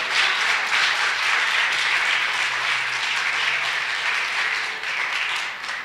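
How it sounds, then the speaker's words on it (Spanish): Sustained applause fills a church congregation, dense and steady clapping at close range for several seconds with no break, fading slightly near the end. "Dale otro aplauso al Señor"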